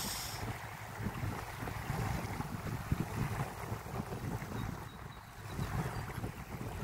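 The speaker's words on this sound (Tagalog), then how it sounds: "Malakas ang hangin." Strong wind gusting over a lake, a steady close rushing roar buffeting the microphone, with no voices.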